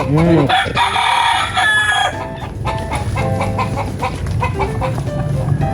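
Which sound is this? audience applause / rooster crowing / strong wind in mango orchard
rooster crowing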